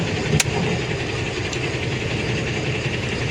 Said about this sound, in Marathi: चला तर मित्र, आपली गाडी स्टार्ट झालेली आहे